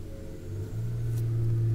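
Road traffic passes nearby as a steady low engine rumble that swells slightly louder over a couple of seconds, with no voices.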